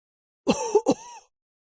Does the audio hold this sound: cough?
yes